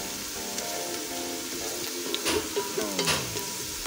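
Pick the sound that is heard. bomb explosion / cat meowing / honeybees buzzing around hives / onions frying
onions frying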